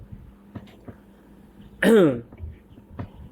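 A single short throat clearing rises out of a quiet background, with a few faint soft sounds before and after.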